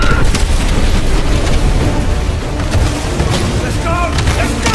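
Artillery strike fire in Call of Duty Modern Warfare, repeated booming impacts and crackling blasts under a dense continuous battle din, with shouted voices mixed in.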